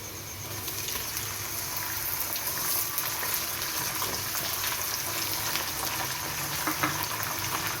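Chicken shallow-fries in a pan with onions and garam masala for palak gosht. A steady, dense hiss and bubbling sizzle runs unbroken at moderate volume, close up, with no voices.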